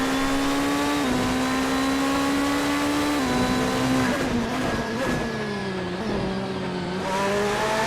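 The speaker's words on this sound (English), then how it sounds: "look at that Ferrari go" A Ferrari GT3 race car in a racing video game at Donington roars loudly and continuously, its engine pitch climbing and dropping sharply at several gear shifts, with brief tire-squeal textures and no talk.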